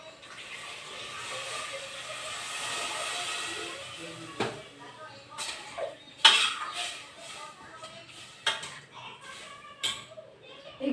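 Water is poured into a cooking pot of chicken soup on the stove, a steady pouring wash followed by several sharp clinks and knocks of pots and utensils.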